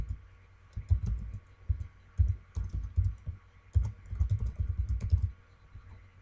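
An email address is being typed on a computer keyboard, giving near, moderately loud clusters of key clicks in short bursts with brief pauses between them and no voices.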